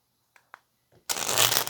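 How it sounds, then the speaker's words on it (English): A few soft taps, then a loud, continuous riffling of a tarot deck being shuffled, close and clear. "Let's get one more shuffle and then we'll continue to clarify."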